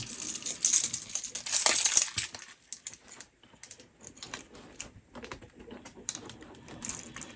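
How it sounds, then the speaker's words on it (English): A shrink-wrapped retail software box from the 80s or early 90s is unwrapped at close range, with crisp plastic crinkling and tearing in loud bursts, then quieter scattered rustles and crackles, with no talking. "let's get this unwrapped if we can"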